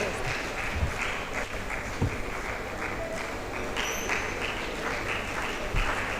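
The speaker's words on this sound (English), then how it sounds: "Please, let's sustain the applause." A crowd keeps up continuous applause at an International Women's Day event, many hands clapping in a dense, even texture from start to finish, with a few louder claps standing out near the front.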